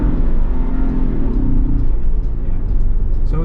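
A Ford Bronco engine shifting into second gear gives a loud, steady low rumble that holds fairly even throughout with no sharp rev change.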